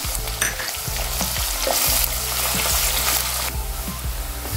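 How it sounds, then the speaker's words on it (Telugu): Finely chopped onion, a large one, fries in a pan with cumin seeds. It gives a steady, loud sizzle with scraping stir strokes, heard alone with no talking. "సన్నగా తరిగి పెట్టుకున్న ఒక ఉల్లిగడ్డ అండి, పెద్ద సైజు ఉల్లిగడ్డ వేసి బాగా వేపుకుందాం"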